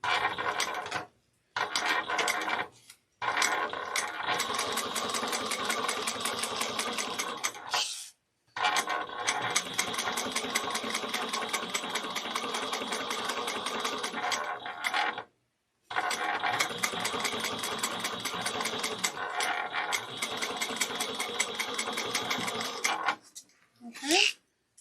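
A sewing machine top stitches a Kandu bag in long runs of rapid mechanical chattering, stopping briefly several times before starting again, close and loud.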